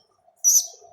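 Young pigeon gives a single short, high squeaky call, close and clear, over a quiet background with a faint low hum.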